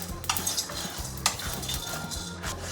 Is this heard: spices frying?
yes